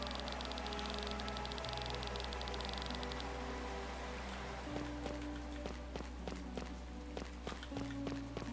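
Steady rain patter in the video game Chained Echoes, with sharp droplet ticks, joined partway through by a soft sustained tone and quick tapping clicks, all fairly quiet.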